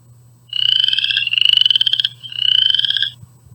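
A chorus frog calls in a rising, raspy trill like a finger run along a comb's teeth, three rapid pulsed bursts close and clear against a steady low hum, with no voices.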